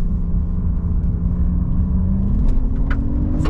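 A 2024 Lexus RX 500h F Sport Performance SUV travels at speed on winding roads, giving a steady interior rumble of engine and tyres with a rising tone as it pulls hard under full power.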